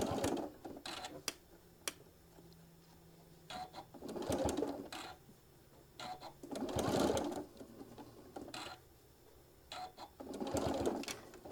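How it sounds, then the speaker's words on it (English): Sewing machine stitching a quarter-inch seam, its motor whirring in several short bursts separated by pauses, with a few sharp clicks in between, close and fairly quiet. "I'm just laying it on and sewing that 1/4 of an inch"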